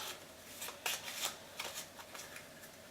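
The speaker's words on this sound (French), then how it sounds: "on va mélanger dans le deck de rencontre" A deck of board game cards is shuffled into an encounter deck, heard up close as soft, quiet riffling and flicking over a few seconds.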